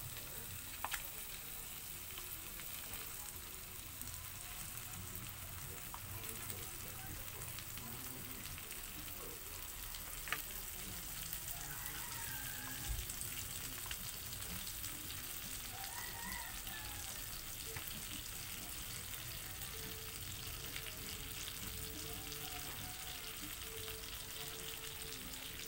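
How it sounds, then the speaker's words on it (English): Beef spaghetti sauce frying in a pan, a quiet, steady crackling sizzle that runs on without a break, with faint soft clinks now and then. "Kaya naman natin ito, spaghetti sauce natin,"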